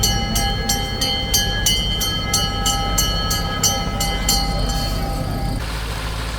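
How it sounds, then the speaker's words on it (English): A train rolls past nearby on an excursion line near Agadir, Morocco, its wheels clacking in a regular rhythm over a loud continuous rumble that eases toward the end. "Here comes the train."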